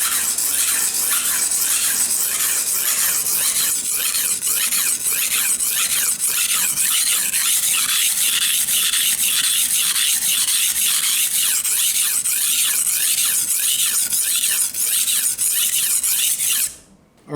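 A knife blade with pitting is ground steadily on an abrasive, giving a loud, continuous rasping hiss with a fast rhythmic scraping pulse that runs for most of the time before cutting off abruptly at the end.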